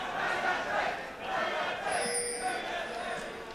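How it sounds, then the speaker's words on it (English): At a League of Legends EU LCS playoff semifinal in 2015 between Fnatic and H2K, an esports arena crowd yells and chants in rising and falling waves, with commentary voices over it. "the crowd yelling for Fnatic"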